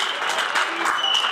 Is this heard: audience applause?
yes